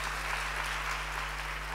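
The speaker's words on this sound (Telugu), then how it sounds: "ఒకసారి చప్పట్లు కొట్టి దేవుని స్తుతిద్దాం" Congregation applause at a Telugu Christian worship gathering, a steady dense patter of clapping across the room with no talk over it.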